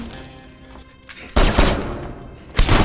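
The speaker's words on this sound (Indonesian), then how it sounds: "Jin Soo yang masuk langsung ditembak" Two loud, abrupt gunshot bursts ring out in a tense Korean film scene, each a sharp blast with a short ringing tail, coming after a quieter stretch of low rumble.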